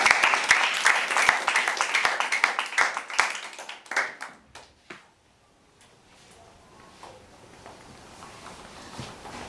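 Audience applause at a school intraschool debate in Lagos, Nigeria, for the next speaker: dense, loud clapping for about four seconds, thinning into scattered claps and fading into quiet room noise.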